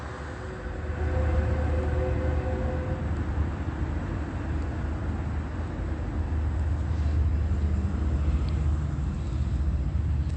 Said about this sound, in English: Yeah, I want you to hear that train activity.